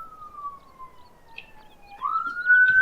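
A police siren wails on a town-centre ring road, a single tone sliding slowly down and then rising again, fairly distant but growing louder.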